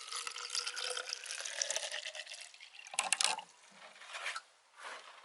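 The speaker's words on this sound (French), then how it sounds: "Et avec mon arrosoir, je vais remplir la bouteille" Water pours from a watering can into a plastic bottle set beside a melon plant in a garden, a close gurgling splash that runs steadily, then breaks into shorter bursts and trickles near the end.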